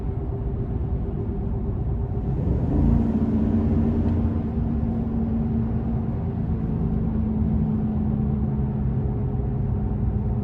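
Steady low rumble of a 2022 Chevrolet Silverado 1500 TrailBoss with a 6.2 liter V8, heard from inside the cab at a constant cruise, with a slight rise in engine tone partway through and no talking.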